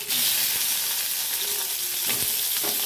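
Chopped tomato frying in oil with tempering spices, a steady broadband sizzle throughout with occasional soft scrapes of stirring, close and fairly loud, no voices.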